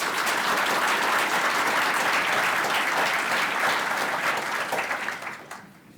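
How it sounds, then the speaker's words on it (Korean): An audience at a law school moot court competition applauds warmly to welcome a speaker to the podium, a dense, steady clapping that holds for several seconds before tapering off at the end. "큰 박수로 환영해 주시기 바랍니다."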